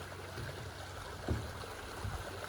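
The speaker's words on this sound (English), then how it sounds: "this beautiful bridge that crosses the San Diego River. You can probably hear it." The San Diego River flows beneath a park bridge as a soft, steady rush of water, faint and continuous, with a couple of small splashes.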